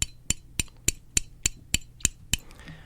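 Nine sharp wooden clicks in a steady even rhythm, each a crisp hit of both sticks together on a snare drum, close and fairly loud, then a brief quiet tail.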